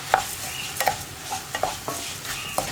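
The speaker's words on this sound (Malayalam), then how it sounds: "ശർക്കരപ്പാനി ചേർത്തിട്ട് ഫ്ലെയിം നന്നായിട്ട് കുറച്ച് വെച്ചിട്ട് നമ്മൾ വറുത്ത് വെച്ചിരിക്കുന്ന അവിലും കൂടി ചേർത്ത് മിക്സ് ചെയ്യുക." A spoon scrapes and stirs roasted flattened rice into jaggery syrup in a pan over a low flame, with repeated close, gritty strokes and a faint sizzle, no voices.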